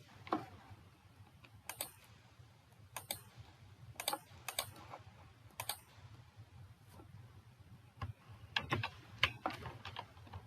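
Someone types Bangla on a computer keyboard, tapping keys in sparse, irregular clicks and short bursts over a low room hum, with no talking.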